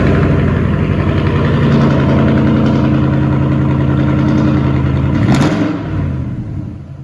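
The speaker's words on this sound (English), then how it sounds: "wait till you hear this exhaust" A lifted Ford F-250 pickup with an aftermarket exhaust idles loud and close, a deep steady rumble with a brief rev near the end before settling lower.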